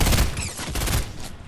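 Rapid gunfire in Fortnite, a loud dense burst of repeated shots fading slightly toward the end, with no talk over it.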